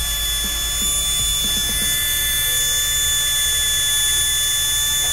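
A mini 4WD motor spins at high RPM on a SkyRC NC2500 Pro charger and tester, giving a steady, loud, continuous high whine with a low hum beneath and a few faint ticks.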